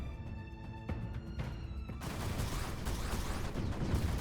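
Cannons fire in the strategy video game Creeper World 4, a dense, continuous barrage of rapid shots that grows fuller and louder partway through, with no talking.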